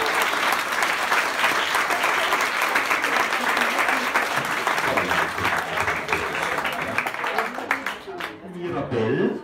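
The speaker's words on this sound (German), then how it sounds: "Abgang, Herr Baron, mit großem Applaus." Big audience applause greets a character's exit from the stage, broad sustained clapping that stays loud and then thins out toward the end as a voice starts speaking.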